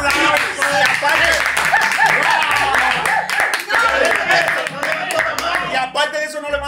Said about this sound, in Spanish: ¡Ey, un aplauso!